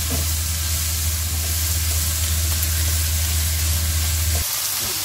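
Capsicum, onion and tomato sizzle steadily in a hot pan for shakshuka, a loud continuous frying hiss with a low hum underneath that cuts off near the end.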